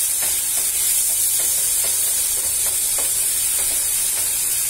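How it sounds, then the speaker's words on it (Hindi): Tomato paste is mixed into lightly browned onions in a hot pan for palak paneer, a loud, dense hiss and sizzle filling the clip with faint rhythmic stirring strokes beneath; nobody talks. "अब हम इसमें ये टमाटर का पेस्ट डाल देंगे, इसको अच्छे से मिक्स कर लेंगे।"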